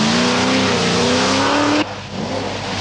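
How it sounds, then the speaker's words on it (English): A Triumph TR7 V8 rally car driving on the Donington Park stage, its engine roaring loud and close with a rising pitch as it accelerates, then the tone cutting out abruptly into a rougher, lower rumble. "BL teammate American John Buffum is having trouble getting to grips with his TR7 V8 at the Donington Park stage"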